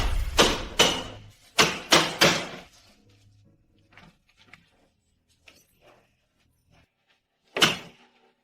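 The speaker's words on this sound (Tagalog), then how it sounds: "Ang pinto." A door is pushed and banged hard several times in quick succession, loud and close, then a few faint knocks and bumps before one more heavy thud near the end; nobody speaks.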